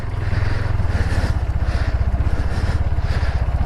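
A motorbike chugs through mud on a high Himalayan road near Langza in Spiti Valley, with loud close rhythmic engine pulses and a steady low thrum and no voices.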